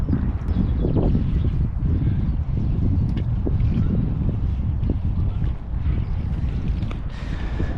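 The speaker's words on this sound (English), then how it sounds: "Oh, this wind." Strong wind buffeting a microphone beside a fishing spot during method feeder fishing for bream and tench, a dense continuous low roar with gusty bumps that stays loud throughout.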